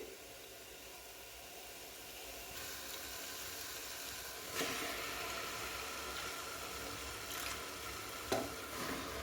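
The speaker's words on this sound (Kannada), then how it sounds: "ಈಗ ನಾವು ಇದಕ್ಕೆ ಮೆಂತ್ಯ ಸೊಪ್ಪು ಸೇರಿಸ್ಕೊತಾ ಇದ್ದೀನಿ." Chopped fenugreek leaves go into a frying pan and get stirred, giving a steady low sizzle with soft scraping and a couple of brief clatters near the end.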